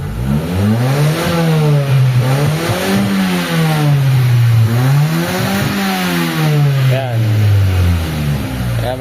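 A carbureted Nissan Sentra engine revs up and down repeatedly, its pitch rising and falling in loud, close waves over a steady idle.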